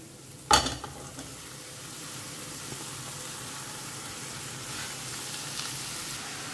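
Shredded cabbage dropped into a hot frying pan gives a sharp burst of sizzle, then a steady, even hiss of frying that carries on quietly.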